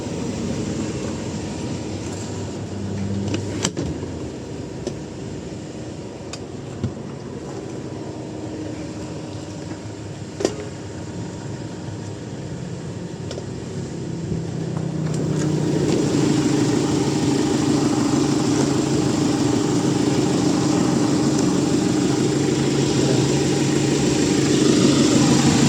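A Hyundai Porter 2 / Kia Bongo 3 with a D4CB 2.5-litre 16-valve four-cylinder intercooled turbo diesel runs steadily with a constant droning rumble that grows louder and fuller partway through, with no talking.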